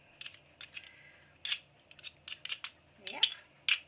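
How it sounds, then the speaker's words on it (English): Scissors snipping chunks of vegan mince, a run of sharp, close, irregular clicks and cuts, with a brief voice in the middle. "If you get any big chunks in it, just cut it with scissors."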